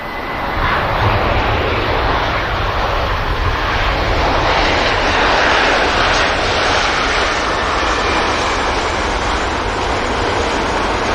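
A Ryanair airliner touches down on the runway at Manchester Airport, its engines roaring loud and steady throughout as a broad, continuous rush with no voices.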